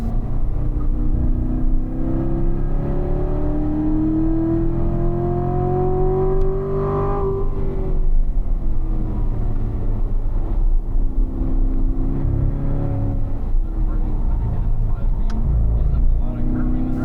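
A car engine held at full throttle while descending a hill at the Spring Mountain performance driving school, a steady loud drone and road roar throughout, with someone talking over it.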